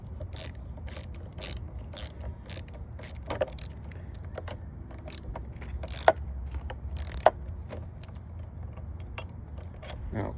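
Ratcheting clicks and small metallic mechanism sounds as a hand guard is tightened down on a Ricochet rifle, a steady run of close, crisp ticks with a few sharper clacks and no talk.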